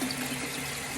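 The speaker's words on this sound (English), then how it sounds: "I don't know if you can hear the water running" Water runs steadily from a tap, a faint, even hiss and flow with no breaks and no talk.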